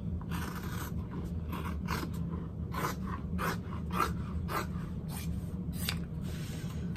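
Scissors cutting out woven fabric pieces for a handmade backpack, a series of crisp, close snipping and scraping strokes at an uneven rhythm over a low steady room hum, with no talking.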